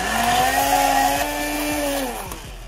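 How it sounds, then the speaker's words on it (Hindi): A hand blender making aloe vera juice whirs at a high steady pitch, droning close by with a slight dip and rise in speed. "नेक्स्ट ये रहा मेरे पास हैंड ब्लेंडर, ये तो बहुत हैंडी है"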